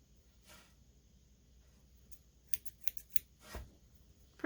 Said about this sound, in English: Pretty nice scissors.